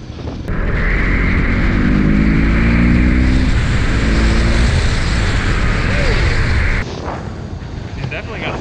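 A BMW motorcycle engine revs up and holds a loud, steady, rising drone for several seconds, with wind buffeting at the microphone, before the pitch drops off as the throttle eases.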